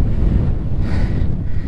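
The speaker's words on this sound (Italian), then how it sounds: "Tiene un vento incredibile" Strong gusting wind on an exposed mountain road at Campo Imperatore, roaring steadily and buffeting the microphone without a break, with no voices.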